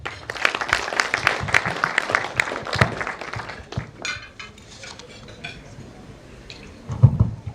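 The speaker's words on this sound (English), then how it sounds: "join me in welcoming him with a round of applause" An audience claps in welcome for a guest speaker, a brisk burst of applause with sharp individual claps that dies away after about four seconds, leaving a quiet room with faint scattered noises.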